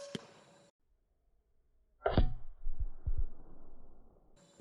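A .34 Javelin Gen 2 airgun slug strikes a clay target 200 yards away: a sharp crack at the start, then after a long silence a distant, heavy impact thud followed by a few softer rumbling knocks.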